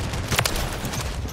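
Gunfire in the video game Modern Warfare 3, a dense burst of rapid shots in a short, loud, close exchange with a sharper crack near the middle.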